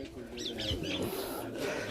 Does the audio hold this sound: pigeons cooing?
yes